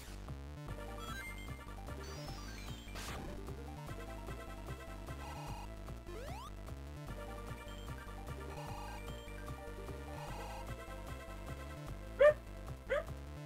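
A dog barks a few brief, sharp times near the end, fairly faint behind steady, looping video game music from Sonic Advance 2.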